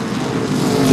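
A modified race car's engine roars steadily at Seekonk Speedway during a 100-lap feature race, a short, loud, sustained burst of engine noise.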